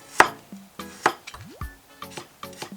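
A knife slicing a single garlic clove on a cutting board, with crisp separate taps of the blade against the board, a few louder strikes and lighter cuts spaced unevenly, close by with no voices.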